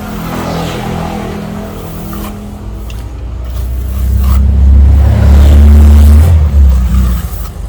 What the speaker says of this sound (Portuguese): Os carros passam aqui e parece que tá